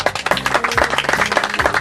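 An audience at a Macedonian shepherd dog (Karaman) show applauds, a short burst of dense, lively clapping close by, with no speech over it.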